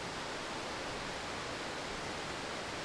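A waterfall seen from rocks close by gives off a steady, broadband rushing hiss of falling water, constant and unbroken, with no voices.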